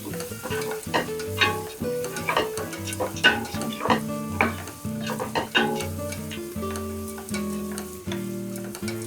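Four large onions frying in a pan for mushroom biryani, a close, steady sizzle broken by repeated stirring scrapes, with soft music playing underneath.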